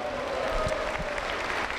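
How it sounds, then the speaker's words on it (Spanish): Congregation at a Pentecostal church service bursts into brief, steady applause, a dense roomful of clapping with a couple of louder close claps near the start. "Aplauso contento para Cristo."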